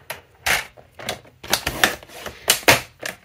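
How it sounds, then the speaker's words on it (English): Paper being cut to strips for a waterfall album, a series of short crisp cutting strokes in irregular bursts, close and alone with no talking. "I'm cutting it to 1¼ inches, and I'm gonna cut 3."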